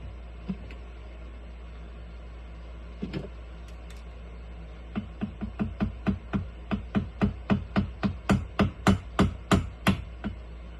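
A hammer lightly taps a part snug during a Stihl MS200T chainsaw engine rebuild. A few scattered taps come first, then a long even series of sharp knocks that grows slightly louder and quicker, in a quiet workshop.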